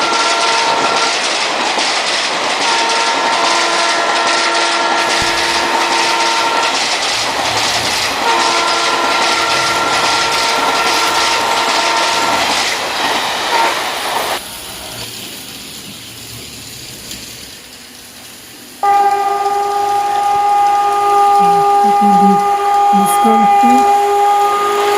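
Model WAM 4 electric locomotive hauling ICF coaches on an Indian Railway layout, a continuous loud running rumble with steady tonal hum and clicking track noise, dropping quieter midway before a sharp louder resumption.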